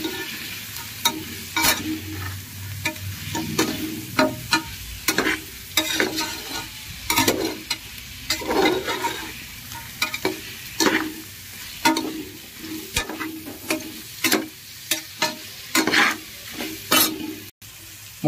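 Vegetables fry in a pan with garam masala and biryani masala while being stirred, giving repeated scraping strokes in an irregular rhythm over a continuous close sizzle.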